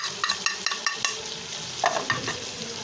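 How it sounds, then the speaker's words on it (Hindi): Chicken frying with crushed red chili for a special biryani, stirred in the pan with repeated scraping clatters and a steady sizzle close by, no talking. "ऐसे ही हम इसमें डालेंगे कुटी हुई सुरख मिर्च और आहिस्ता आहिस्ता से हम सारी चीज़ें डालेंगे ताकि चिकन के साथ वो भी फ्राई हो जाए।"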